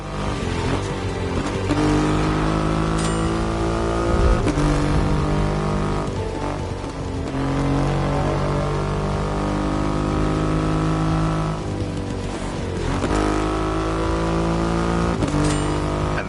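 A Triumph Rocket 3 motorcycle with its big 2.5-litre engine in The Crew Motorfest, holding a loud steady engine drone for the whole stretch, with harmonic pitch shifts as it revs and eases off, and no talking.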